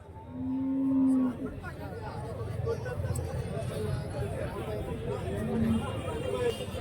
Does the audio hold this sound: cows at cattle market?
yes